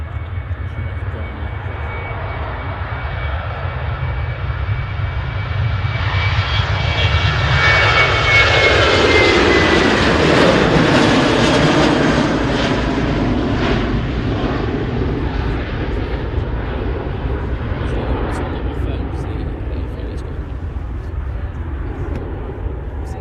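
ATR turboprop airliner at Manchester Airport, a loud steady engine roar that swells as it passes nearby and then slowly fades, with continuous low rumble throughout.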